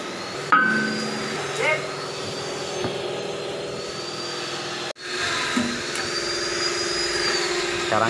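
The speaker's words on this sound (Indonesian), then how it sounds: "Gedor pakai palu 5 kilo." Heavy blows of a 5 kg hammer pound on a Caterpillar bulldozer final drive, with a few sharp metallic strikes over a steady machine drone and hiss in a workshop.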